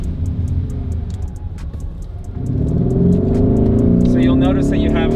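A Lamborghini Urus engine rumbles low while driving, then revs up and swells louder in the second half as the car accelerates, close and heavy inside the cabin, with people talking over it.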